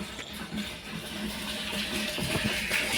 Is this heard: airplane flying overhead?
no